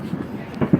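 Fourth of July fireworks bang in short, loud bursts near the end, preceded by a quieter stretch of crowd noise and street talk.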